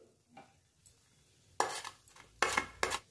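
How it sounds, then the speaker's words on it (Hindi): Food mashed with a masher in a pan after ginger-chilli paste goes in, giving a few sharp metallic clanks and scrapes in an irregular cluster, close and fairly quiet, no talk. "तो मैशर की हेल्प से मैश कर देंगे।"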